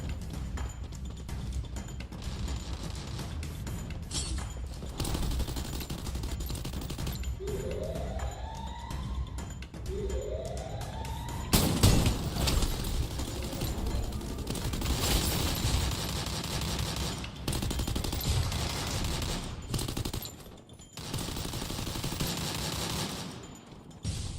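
Gunfire in the Free Fire video game, with bursts of shots mixed into busy game audio that also carries a siren-like wail and other effects, fairly loud and continuous across the clip.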